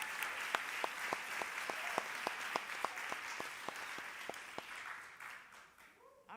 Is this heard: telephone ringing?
no